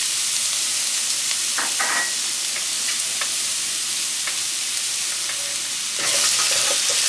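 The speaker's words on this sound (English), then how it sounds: "2 tablespoons of olive oil in the pan. Next I'm gonna add some garlic in there." Garlic frying in two tablespoons of olive oil in a pan, a steady close broadband sizzle with small crackles and pops, stirring sounds midway, and the sizzle swelling louder near the end.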